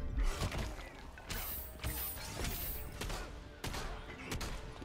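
Rapid mechanical gunfire from a minigun in the fighting game Injustice 2, coming in repeated loud bursts with sharp transients over a busy game soundtrack.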